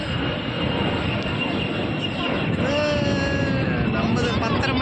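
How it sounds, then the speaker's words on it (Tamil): AirAsia airliner taking off at an airport, a steady broad roar of jet engines with rising whine heard from a distance, continuous and fairly loud with no talk. "மேலே டேக்கப் ஏர்ஏசியா ஃப்ளைட்"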